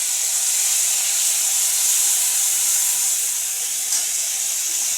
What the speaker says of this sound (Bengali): এখন জিরা আদা আর মরিচের পেস্টটা দিয়ে দিলাম